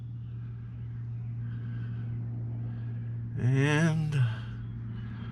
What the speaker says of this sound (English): Then I start the truck and get this cold AC working in here.